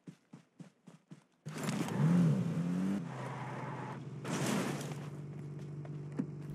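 A car driven in a battle royale shooter, with a few short clicks, then a loud engine roar that rises and settles into a steady drone, plus a second surge of revving.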